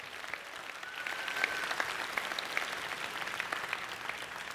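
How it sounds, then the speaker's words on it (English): A live theater audience at a mind-reading magic show gives a steady, full round of applause, dense clapping holding at an even level throughout with a few louder claps standing out. "Give her one more big round of applause."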